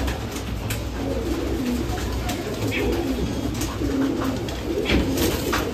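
Soft, repeated cooing of a small pigeon close by, low throaty calls rolling over one another with some chirps and background murmur.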